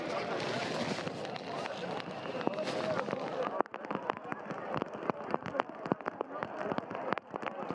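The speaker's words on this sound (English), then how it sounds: "You can still hear the noise of the rain coming down." Heavy rain pours down during the Riyadh Marathon, a dense broadband hiss that thins into scattered sharp drops and taps on surfaces, with crowd and voices faintly mixed in.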